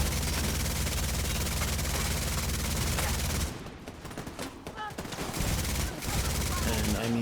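Gunfire from a weapon in The Division 2, a dense continuous rattle of shots with a brief lull midway before the firing resumes, loud and close.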